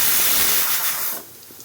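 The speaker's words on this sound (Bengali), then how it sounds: "সিটির শব্দ হইতে আছে" A pressure cooker vents steam in a loud, continuous hiss that cuts off after about a second, leaving faint kitchen background.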